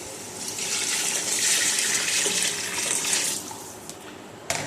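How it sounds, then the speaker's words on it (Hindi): Water pours in a strong, steady gush into a pot of browned chicken pulao for a few seconds, then tapers off with a short splash at the end. "ये हमने शामिल कर दिया पानी।"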